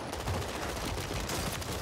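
A Holger assault rifle fires in dense automatic bursts in a video game, with a rapid stream of loud, close shots that runs almost continuously.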